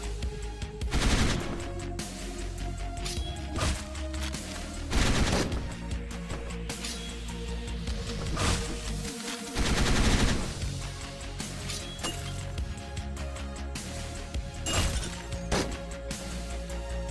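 Rifle enemies fire their guns in the top-down shooter Hotline Miami 2: Midnight Animal, with sharp shots bursting in repeated volleys over a steady synth music bed.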